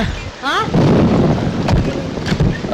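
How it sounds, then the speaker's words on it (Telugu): Rain and thunder in a film scene make a loud, rumbling wash of noise with heavy low-end gusts. A brief voice-like sound comes early on. "ఇప్పుడు అర్ధంతరగా ఈ వర్షం పట్టుకుంది"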